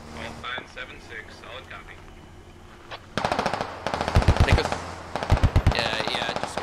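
Rapid machine-gun bursts in the tactical shooter game Squad, dense repeated volleys starting abruptly and continuing loud and close, with radio-style voices talking faintly beforehand.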